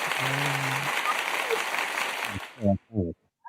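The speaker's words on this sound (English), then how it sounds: "He got a clapping sound effect." Canned clapping sound effect played during a birthday broadcast, a sustained burst of applause that fades out, followed by people talking.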